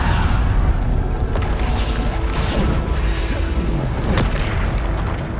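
Spell combat in Hogwarts Legacy, a dense, loud wash of magical blasts, booms and mechanical impacts layered over each other without pause.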